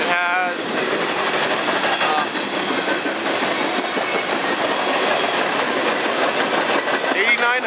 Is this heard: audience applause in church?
no